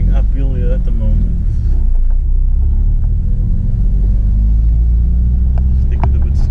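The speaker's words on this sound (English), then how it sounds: "I'm driving uphill here at the moment." Toyota Corolla AE111 engine and induction droning low and steady while climbing uphill, a continuous loud rumble with speech over the first second and faint clicks near the end.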